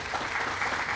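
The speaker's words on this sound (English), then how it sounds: "let's give him a round of applause as well." Brief burst of outdoor applause from a crowd at a public event, steady scattered clapping for about a second.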